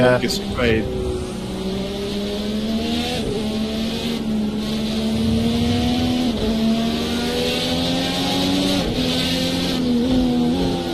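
A race car engine drones at Dubai Autodrome in a racing video game, holding a loud, steady tone that climbs in pitch and then drops back with gear changes throughout.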